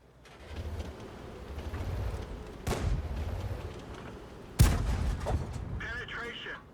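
Two sharp, booming tank gun shots fired with premium rounds in World of Tanks, spaced a couple of seconds apart over a steady engine rumble, the second one louder and closer.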